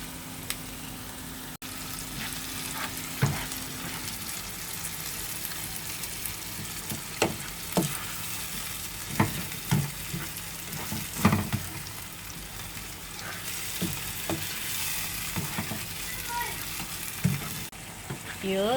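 Bagoong alamang shrimp paste sautéing in a pan makes a continuous close sizzle, with scattered scrapes and clicks from stirring throughout.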